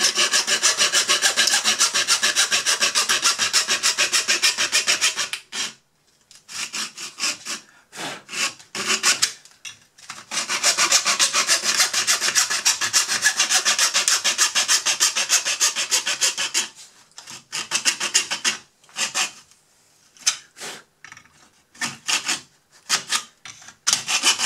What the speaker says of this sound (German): dann sägen wir das jetzt einmal schnell aus